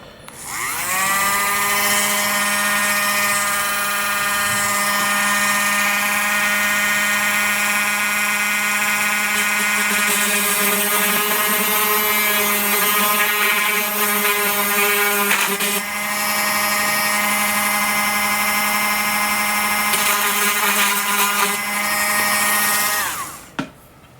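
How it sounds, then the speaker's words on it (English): A Dremel rotary tool fitted with a 1mm cutting bit grinds into a composite model glider tail boom, a loud, steady high-pitched whine running continuously for over twenty seconds with slight pitch dips under load, then spinning down. "start with the Dremel tool, and this is like a 1mm cutting bit. I like to use this on composite parts."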